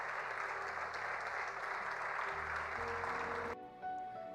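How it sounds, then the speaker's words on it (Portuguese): A church congregation applauding together, a dense, steady wash of clapping for a few seconds that breaks off abruptly near the end, leaving quiet room tone. "Você pode se colocar de pé, pode aplaudir a Deus pela palavra dele."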